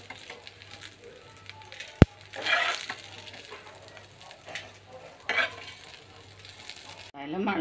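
Mustard seeds and other tempering seeds with green chillies sizzle and crackle in hot oil in a pan, a steady low frying hiss with scattered pops and a sharp tap partway through, fairly close with no talk.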